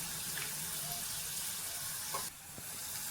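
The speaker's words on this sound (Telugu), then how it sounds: "మూకుల్లో వేసుకున్న కాకరకాయ ముక్కలు అయితే బాగా ఫ్రై అవుతున్నాయి." Pieces of bitter gourd fry in a pan, giving a continuous hissing sizzle that stays steady and close, with a faint clink near the end.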